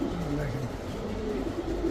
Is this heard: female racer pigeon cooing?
yes